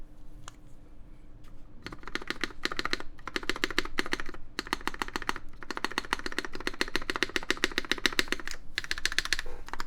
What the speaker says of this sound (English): I still hear some spring noise in this, but the stabs themselves are not rattly.